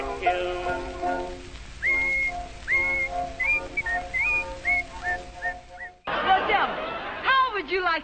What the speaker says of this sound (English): he's happy when he whistles this tune.